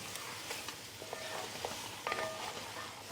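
Grated tomato stirred and fried in a pan for a Mumbai hotel-style dish, giving a soft, steady sizzle with faint scraping stir strokes and a few brief clinks, no talking.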